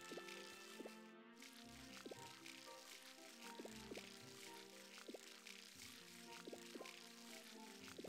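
Watering crops in the Harvest Moon farming game gives soft, repeated dripping and pouring water effects at a steady rhythm, quiet and with no speech.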